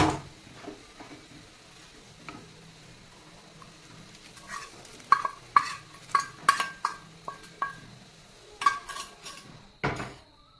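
Raw mango curry, Malabar style, being mixed in a pot: a quiet stretch gives way to a run of sharp metallic spoon clinks and scrapes against the vessel, close and intermittent.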